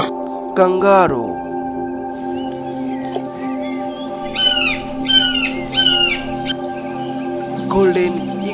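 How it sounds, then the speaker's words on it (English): A golden eagle calls in short, sharp, descending yelps, several in quick succession mid-clip with a couple more at the edges, moderately loud over a steady musical backing. "Golden eagle."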